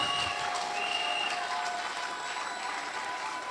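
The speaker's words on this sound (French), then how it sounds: "Acclamons très fort pour le roi des rois." A church congregation applauds in a steady, even wash of clapping that holds for a few seconds, fairly faint and distant, with no voices rising above it.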